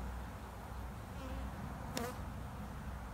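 Honeybees buzz steadily around an open hive under inspection, a dense continuous hum close by with one sharper pass near the middle.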